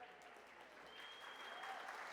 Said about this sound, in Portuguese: Palmas para o Danilo.